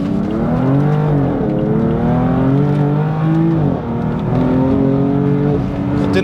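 A BMW M4 with upgraded suspension on Motec springs drives and corners, its engine note loud and steady from inside the cabin, pitch rising and falling through gear changes and throttle shifts.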